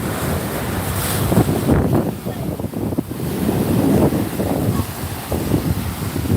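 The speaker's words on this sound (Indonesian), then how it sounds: "Pantainya bagus, ombaknya besar." Big ocean waves rolling onto a beach, a continuous loud roar of surf mixed with heavy wind buffeting the microphone.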